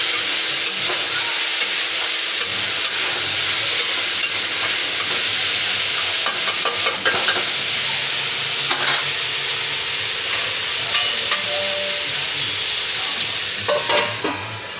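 Spices with a little chili powder, for a Bengali shukto, are stirred and fried in a pan, giving a loud, steady sizzle with occasional scraping stirs that runs unbroken for the whole stretch, with no talking.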